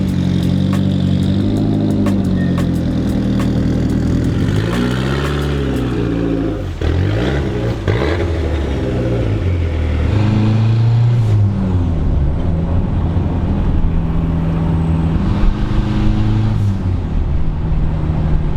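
A mid-engine Mitsubishi Eclipse car is driven, its engine droning steadily and loudly throughout with shifting pitch as it accelerates and eases off, no voices heard.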